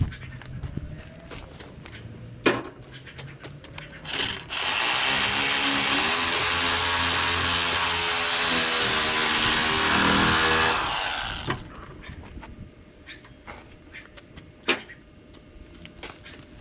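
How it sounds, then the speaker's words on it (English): A power drill whirs loudly and steadily for several seconds while taking apart scrap, bracketed by clanks and knocks of metal being handled. "Now I'm going to zip this one apart real quick with the drill."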